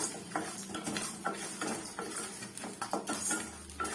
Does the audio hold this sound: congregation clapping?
no